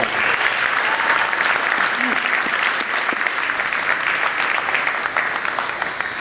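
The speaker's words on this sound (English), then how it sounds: "So let's give them a round of applause right now." An audience applauds an honoree at a high school jersey retirement ceremony, a loud, sustained wash of clapping that fills the room and holds steady throughout.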